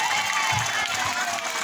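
Children in a classroom applaud a class in a short burst of clapping with crowd noise, steady and fairly close, with voices mixed in.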